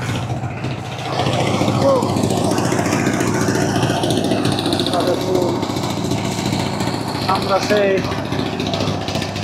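A boat's engine drones steadily while the boat travels on the Padma river. The close, continuous hum runs under someone talking.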